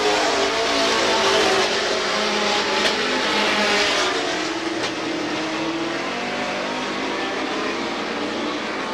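Race cars circling Star Speedway, a loud, continuous engine roar from several cars close by, swelling and easing slightly as they pass along the track.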